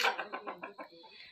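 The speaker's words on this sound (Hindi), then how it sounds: "ये है एक छोटी मुर्गी" A small hen clucks in a rapid run of about six short, nasal pulses that fade toward the end, close by and clear, with a voice faintly present around it.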